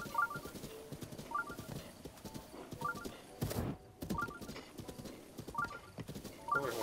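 A horse in Zelda Breath of the Wild gallops in a steady repeating hoof rhythm, with rising neigh-like calls recurring every second or so and a brief whooshing burst midway, close and moderately loud.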